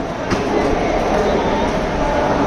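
The locomotive of the Pinakini Express sits at Chennai Central station, giving off a loud, steady, broadband rumble and hiss with no breaks throughout.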